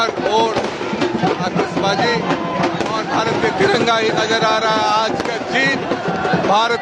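Fireworks burst in a continuous dense barrage at a celebration of India's cricket World Cup semi-final win, with crackling pops overlapping a loud cheering crowd and a voice talking throughout.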